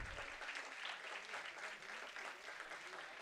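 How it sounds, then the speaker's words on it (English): Audience applause at an IEEE Delhi Section inaugural ceremony, a sustained dense crowd clapping that holds steady for the full few seconds with no talk over it. "A round of applause for all the Bank of Baroda team members."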